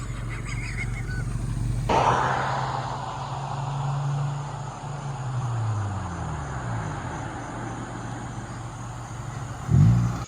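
Honda Del Sol Si braking hard with the brakes locked up: a loud, sustained tire squeal over engine drone, sliding in pitch, then a short burst of noise at the end.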